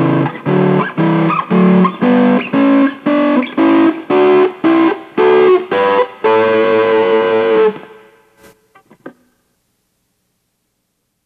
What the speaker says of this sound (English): you can harmonize that scale by playing a third higher